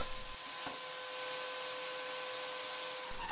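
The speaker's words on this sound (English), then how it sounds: "I use a selection of router bits to round over the top." Router with a roundover bit shaping the top edge of a wooden banjo rim, a steady high whine running continuously and fairly quietly throughout, with a faint knock near the start.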